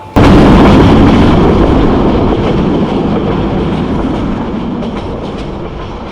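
The Sonar Bangla Express, a luxury nonstop intercity train, roars along the rails with a loud, dense rumble that starts abruptly and slowly eases. A faint clickety-clack runs through it, with no voices.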